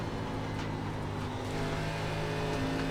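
A NASCAR Xfinity car in the iRacing sim, racing at Kentucky, roars at full throttle in a steady, loud, sustained engine drone with no speech over it.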